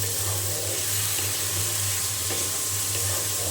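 Washed rice frying in ghee for pilaf, a steady soft sizzle with a low hum underneath, continuous and fairly close without pause.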